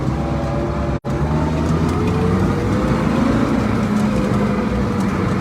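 A Schlüter Super 2000 TVL tractor engine drones loudly and steadily up close, its low rumble rising slightly under acceleration with one brief dropout near the start.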